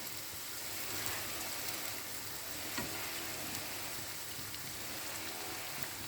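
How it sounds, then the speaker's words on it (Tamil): Onions sizzle steadily as they deep-fry until crisp, a dense even crackle like light rain that holds at a constant level throughout with no voices. "நான் அடிஷ்னலாக கொஞ்சம் வெங்காயமாக பொரிச்சிட்டு இருக்கேன் பாருங்கள்."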